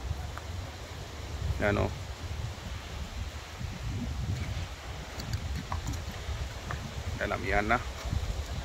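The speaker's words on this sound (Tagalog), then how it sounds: "Yan, yan, amihan na ngayon ng hangin." Strong amihan wind gusts along a rocky shore that floods at high tide, a steady broadband rush with low rumble, while someone speaks briefly a couple of times over it.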